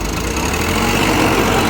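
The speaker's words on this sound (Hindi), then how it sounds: "ट्रैक्टर ढकेल रही है" Tractor engine labouring loudly and steadily up close as it pushes a pickup truck stuck in a flooded village near the Ganges, a continuous heavy rumbling drone with no speech over it.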